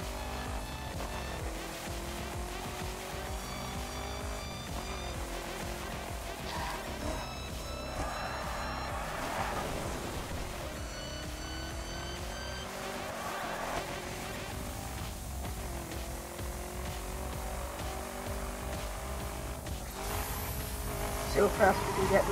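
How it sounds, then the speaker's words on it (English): A 2011 Dodge Challenger in the racing game The Crew drives through Miami, its engine droning steadily with rising and falling revs and brief tire squeal, mixed with game music and a person talking over it. "this is a Dodge Challenger"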